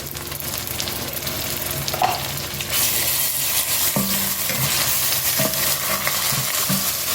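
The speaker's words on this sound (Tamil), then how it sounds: "எல்லாம் பச்சை வாசனை போகும் மாதிரி வதக்கணும்" Steady sizzling of ginger-garlic paste in a pan with occasional scraping and stirring taps of a spoon, close and continuous, with no talking.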